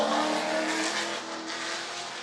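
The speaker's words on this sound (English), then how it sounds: "That's a Ford Mustang, 1968." A 1968 Ford Mustang race car with a 289 cubic inch small-block V8 roars loudly at a time trial, a sustained close engine drone that eases slightly partway through.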